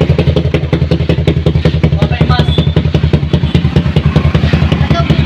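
Suzuki Raider FI motorcycle engine revving hard with a rapid string of sharp backfire pops, loud and close, the bangs evenly spaced in a fast rhythm throughout.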